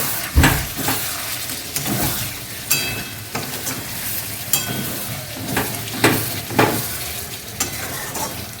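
Meat stirred in a hot pan, repeated scraping strokes over a continuous loud sizzle, close and rhythmic with no one speaking.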